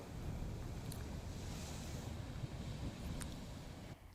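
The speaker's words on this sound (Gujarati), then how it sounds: "ભારે પવન ફૂંકાતા 15 ફૂટ જેટલા ઊંચા મોજા ઉછળ્યા હતા." At the Dwarka ghat, strong wind drives high sea waves of around fifteen feet, heard as a steady, dense roar of surf and wind buffeting the microphone that cuts off at the end.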